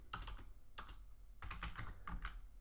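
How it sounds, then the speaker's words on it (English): Fingers type a command on a computer keyboard in quick, uneven bursts of close key clicks, with short pauses between groups and no speech. "Then we need to type the username"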